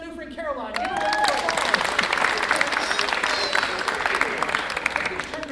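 Applause and crowd cheering swell up from a stage audience for a girl brought up on stage, with a voice heard briefly at the start before the clapping takes over and holds steady.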